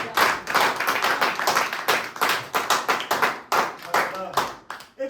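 A church congregation claps in a steady rhythm to acclaim Jesus during worship, the sharp bursts coming close together and fairly loud, with voices mixed in among them.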